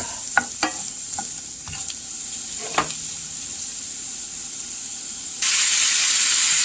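Onions cooking in a pan before ground beef goes in, with a steady low sizzle, a few sharp clinks of stirring, and a louder hiss of frying near the end.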